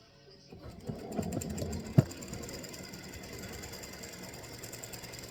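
Home embroidery machine stitching freestanding lace acorn earrings in matching thread, a quiet, fast, even mechanical whirr and chatter with one sharp knock near the start, running alone.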